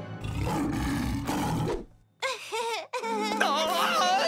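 A big cat roars loudly in a cartoon, a long rumbling roar followed by a brief pause and then more tonal animated vocal sounds and cries.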